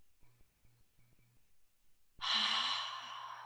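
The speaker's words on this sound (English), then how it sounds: "Deep breathing in and out." Deep, slow breathing during a guided stress-relief exercise: a few soft, quiet breaths, then one long, loud, airy exhale like a sigh, heard close and alone.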